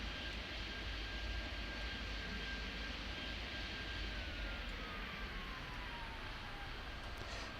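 Airliner landing in the game Airport Madness 3D, a steady loud jet-engine roar with a faint whine sliding slowly downward, constant and uninterrupted throughout.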